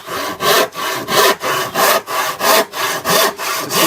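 A handsaw rasps through a wooden panel scribe in even back-and-forth strokes, about eight of them, close and loud with no talking.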